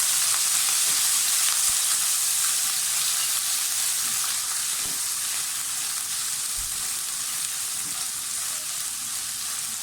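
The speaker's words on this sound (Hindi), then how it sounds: "ज़ीरा थोड़ा सा ब्राउन हो जाए तो साथ ही लहसुन अदरक का पेस्ट और हरी मिर्च डाल दें।" Garlic ginger paste and green chilies hit hot oil with browning cumin seeds, giving a loud, steady sizzle and crackle that fills the pan throughout, with occasional light stirring clicks.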